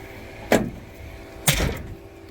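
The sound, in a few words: 1982 Ford Ranger EV car door closing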